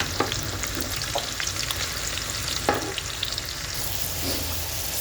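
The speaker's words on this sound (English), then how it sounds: "So I'm just going to start putting my onions." Onions frying in a pan where beef has been cooking with garlic and ginger, a steady close sizzle with occasional stirring scrapes across the whole stretch, no voices.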